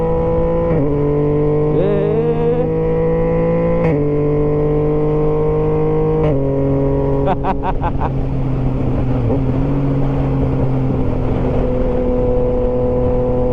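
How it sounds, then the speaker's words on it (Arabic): A loud motorcycle engine revs steadily while accelerating, with a sharp stutter of several rapid pops from quickshifter gear changes partway through, then continues droning at a higher pitch. "يعني الصوت الكويك شيفتر غادي يفيقكم."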